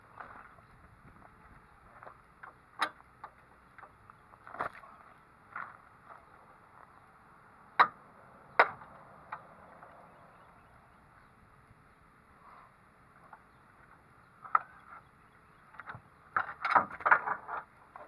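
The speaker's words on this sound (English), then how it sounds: "Now I'm gonna run it down using a ratchet" A ratchet wrench runs a loosened bolt down, giving soft, fairly quiet clicking bursts spread across the stretch, with a few sharper metallic ticks and a busier cluster near the end.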